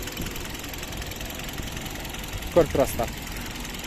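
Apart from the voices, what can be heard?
Hyundai Solaris car engine idling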